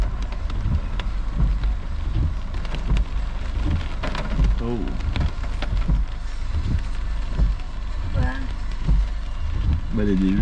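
Heavy rain pours down steadily during a thunderstorm chase, a dense broadband hiss drumming on surfaces throughout, with occasional low rumbles and a few brief voices faintly heard under the downpour.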